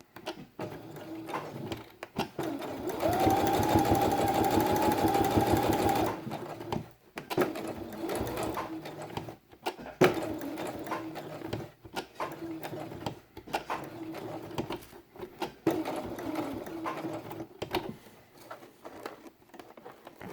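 A sewing machine stitches felt for a children's quiet book. It runs in a steady, fast buzzing burst of about three seconds, and quieter stops, handling noises and short stitching spurts follow.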